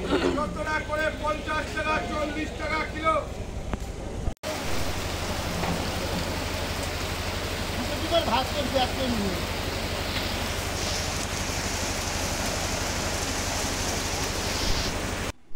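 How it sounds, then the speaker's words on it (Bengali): Heavy rain pours down in a dense, steady roar throughout, briefly interrupted once, with faint talk mixed in early on. "এখনই বৃষ্টি নামে প্রচণ্ড মেঘ"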